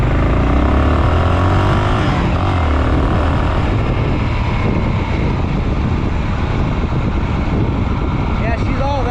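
Honda GB500 motorcycle engine on a shakedown ride, a loud close continuous drone with heavy wind rush, steady with slight revving throughout and a voice briefly audible underneath.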